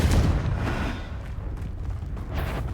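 A Confringo explosion spell in the video game Hogwarts Legacy erupts as a deep, rumbling blast that decays into a sustained, loud low roar.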